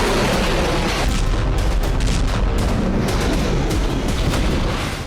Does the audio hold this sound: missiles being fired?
yes